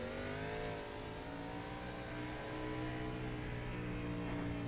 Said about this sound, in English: But we heard that engine revving.